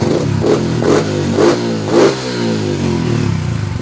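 A Yamaha Sniper 150 motorcycle engine, just repaired after an injector fault, revs repeatedly in loud, close throttle blips about every half second over a steady idle, with no talking.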